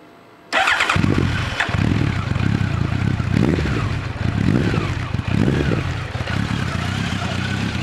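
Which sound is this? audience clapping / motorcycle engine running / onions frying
motorcycle engine running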